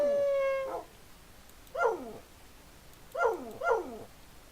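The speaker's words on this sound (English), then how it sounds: "That's what the wolf alarm does." A tamed wolf alarm in the Minecraft video game sends out a series of short, pitched dog-like howls. A brief tone comes first, then three separate yelping howls sound at moderate volume over a quiet background.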